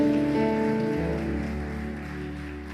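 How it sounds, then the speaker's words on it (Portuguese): A church congregation applauds during a worship service: dense, steady clapping that fills the space, with sustained instrumental tones held underneath, slowly easing in loudness. "uma salva de palmas para Jesus"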